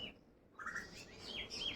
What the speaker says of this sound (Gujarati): મસ્ત મજાને પંખીડા અત્યારમાં બોલે છે.